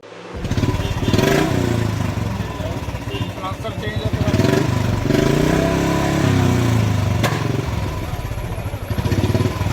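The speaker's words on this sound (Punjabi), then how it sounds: "ਮੋਟਰਸਾਈਕਲ ਸਲੈਂਸਰ ਜਿਹੜਾ ਕਿ ਪਟਾਕਾ ਮਾਰੂਗਾ" Loud Bullet motorcycle with a modified silencer running and revving throughout, with a harsh, rumbling exhaust tone and clattering backfire bursts; voices talk over it at a police checkpoint.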